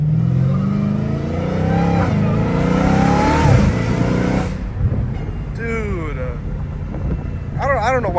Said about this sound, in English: Dude, those shifts are crazy. It shifts so smoothly.